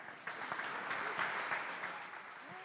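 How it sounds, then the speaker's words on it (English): Warm round of applause from an audience at a leadership conference, steady dense clapping sustained throughout, fairly close and even in loudness. "let's be sure to give her a nice warm round of applause"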